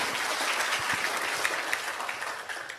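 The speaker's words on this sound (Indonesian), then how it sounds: "tepuk tangan dong" Audience at a business presentation bursts into sustained applause, a dense even wash of many hands clapping close and steady throughout, fading slightly at the end.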